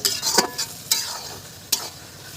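Food for a chicken dish is stirred in a frying pan with garlic paste, giving a steady sizzle with a few sharp scraping strokes of the spatula, close and clear with no talking.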